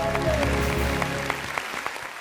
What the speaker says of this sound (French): On applaudit très fort pour Didier Bléou, s'il vous plaît.